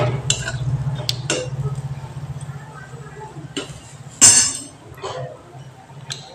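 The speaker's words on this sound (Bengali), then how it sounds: "এবার আমি একটু ভালো করে নেড়ে নেব।" Dry chillies, cinnamon and cardamom sizzle in hot oil in a pan for a sardine gravy as a spoon stirs them, with scattered clinks of the utensil against the pan over a low frying hiss and one louder knock.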